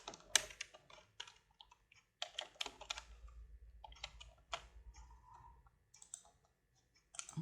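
Typing on a computer keyboard while entering a word into a text box, with irregular bursts of close, crisp key clicks and brief pauses between them, heard alone with no talking.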